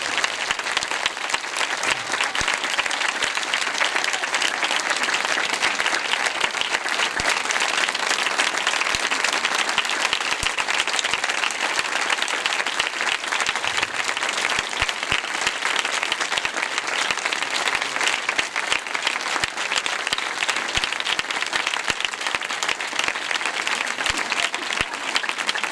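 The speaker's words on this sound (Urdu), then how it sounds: "let's clap for the triune God" A church congregation applauds loudly and steadily, dense clapping sustained from start to finish with no pauses, filling the room.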